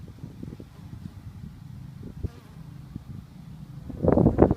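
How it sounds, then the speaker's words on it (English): Bees buzzing around a hive, a low steady hum with wind noise, swelling louder as insects pass close to the microphone. "Some of these bees, you know, they have a difficult time getting out of those smaller holes"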